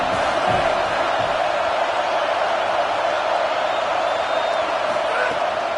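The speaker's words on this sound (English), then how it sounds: "how nice is it to have the home crowd going absolutely bananas?" A home crowd at a football game roars in a continuous, dense wall of cheering and shouting, loud and sustained throughout without letting up.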